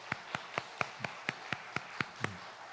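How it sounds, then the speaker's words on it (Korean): A church congregation applauds its lunch volunteers with about ten sharp, evenly spaced claps in a steady rhythm, close and crisp over a quiet room. "우리 박수 한번 드릴까요?"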